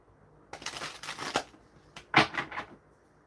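Tarot cards are riffled twice in quick, crisp bursts, a close papery fluttering with a short pause between, otherwise quiet.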